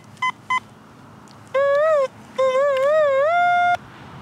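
A metal detector pinpointer, used while digging for relics, gives two short beeps and then two longer warbling electronic tones that sweep up and down before settling on a steady pitch, close and clear over a quiet background.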